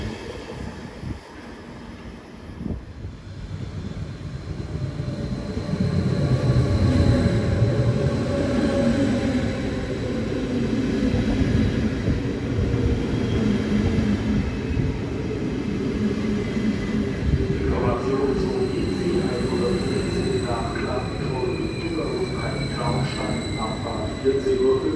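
A DB train pulls into München Hauptbahnhof, a loud rolling rumble building and holding with squealing wheels and brake tones, while a station announcement sounds over it.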